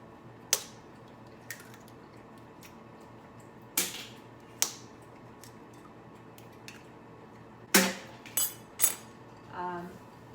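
Two eggs are cracked into a bowl for chocolate chip baking, giving sharp, isolated taps and cracks spaced out, with a cluster of knocks near the end. They are close and fairly quiet against a faint room hum.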